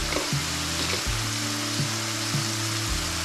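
Eggplant frying in a pan with turmeric, cumin, coriander and salt gives a steady close sizzle with occasional stirring scrapes, no voices.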